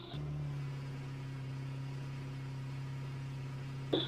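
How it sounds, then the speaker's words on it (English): Race car engine sounds from an iRacing simulation of a Williams FW31 at Circuit of the Americas: a steady, even engine drone holds for about four seconds, with a brief sharp rise right at the end. "let me just check the car sounds first"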